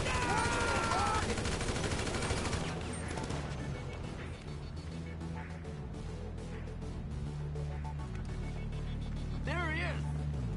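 Gunfire fills a Grand Theft Auto V shootout, dense loud bursts mixed with crashes and music, while game characters shout over the top throughout.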